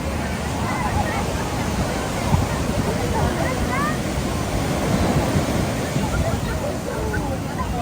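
Steady roar of ocean surf crashing close by at a surfing beach in San Juan, La Union, Philippines, with gusty wind buffeting the microphone throughout.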